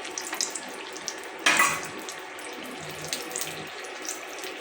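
Potato and flour pitha frying in oil on an electric stove, giving a steady close crackling hiss with one brief louder burst of sizzle partway through and no voices.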